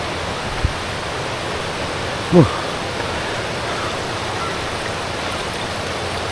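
Steady broadband rush of a mountain stream flowing down beside a tall Malaysian waterfall, constant and close, with a brief louder swell partway through.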